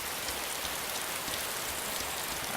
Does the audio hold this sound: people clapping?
no